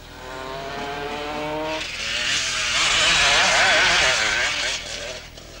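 500cc enduro motorcycles labour up a steep hill, engines rising in pitch then giving way to a loud, rough blare of revving and spinning, close and sustained before easing off.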